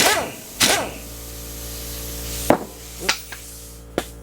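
Impact gun running a socket down onto a pinion bearing puller in a workshop: several short, sharp, loud bursts spaced apart, with quieter gaps and a steady low hum between them.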